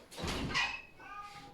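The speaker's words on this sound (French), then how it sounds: "J'ai un chat qui réclame." A house cat asking to be let out cries at the door, one drawn-out meow followed by a softer trailing call, close and moderately loud with no talking.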